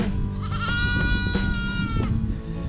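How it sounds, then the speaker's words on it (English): Goats out clearing brush bleat several times in a warbling way. The calls sound close and fairly loud over a steady, busy outdoor background. "Happy goat. Yeah, the goats."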